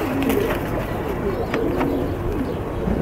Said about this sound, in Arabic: الحمام اهي، تمام؟